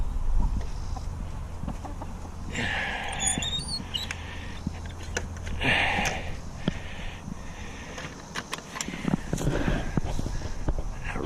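Silkie chickens and a rooster peck at watermelon nearby, giving soft clucks, scratchy pecking and small rustles scattered over a low steady background hum.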